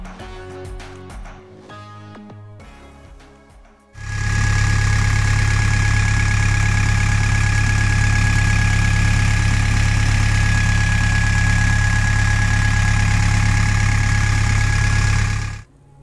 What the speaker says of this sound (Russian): Сейчас послушаем звук двигателя.